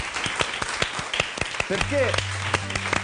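Studio audience claps for contestants on a televised judged show, with brisk, distinct claps near the start, then a short spoken word and a sustained tonal sound take over as the clapping thins.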